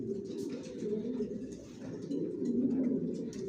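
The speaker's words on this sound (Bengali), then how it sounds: "সব একই লাইনের কবুতর পালি আমার লফটে, জনসনের লংয়ের।" Racing pigeons of the Johnson line coo in a loft, a close, low, throaty warble that repeats and overlaps continuously, swelling slightly toward the end.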